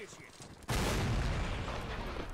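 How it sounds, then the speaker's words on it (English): A cannon blast bursts out suddenly in a Mount and Blade Warband Napoleonic-era battle, a loud booming onset followed by a sustained rumbling, crackling wash of distant battlefield noise. "there was a cannon blast somewhere"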